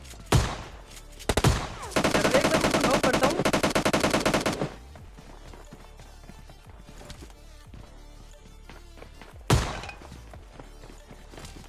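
Gunfire in the battle royale game PUBG Lite: a short opening burst, then a sustained rapid automatic volley lasting over two seconds, followed by scattered quieter shots and one more loud crack near the end.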